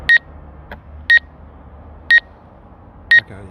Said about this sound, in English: okay, that one beep is a good thing